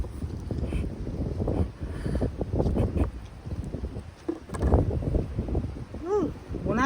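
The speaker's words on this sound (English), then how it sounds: "it is windy out here" Strong gusts buffet the microphone in an outdoor vegetable garden, rumbling and roaring in uneven surges while someone talks over the blustery noise throughout.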